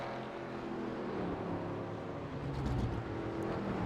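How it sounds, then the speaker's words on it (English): A race car engine at Watkins Glen sputters and misfires as it comes off a corner under light throttle, a steady, moderately loud rough drone that swells near the end with no talk over it. "you can hear that car pretty much sputtering off the corner"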